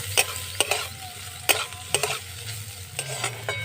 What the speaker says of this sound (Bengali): এবারে আমি গাজর কুচিটা দিয়ে দেব পেঁয়াজ কুচি দিয়ে দিলাম কাঁচা লঙ্কা কুচি সব একসাথেই দিয়ে দিলাম দিয়ে একটু ভেজে নেব